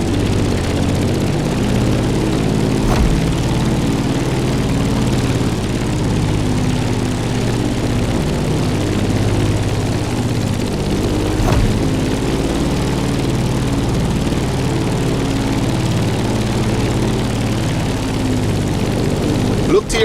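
A propeller airplane engine climbs in The Crew Motorfest, a loud, steady drone that holds constant from start to finish.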